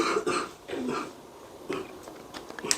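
A lecturer in a crop-cultivation class coughs and clears his throat in several short, rough bursts spaced across a few seconds, close and moderately loud with no speech.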